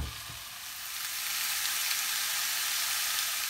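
Courgettes fry in a pan with a steady, close, broadband sizzle that holds evenly throughout, with no talking.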